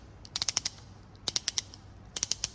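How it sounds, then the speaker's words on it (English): A nutsert setting tool ratchets in three quick runs of about four sharp clicks each, close and crisp with short pauses between. "this is a ratchet action"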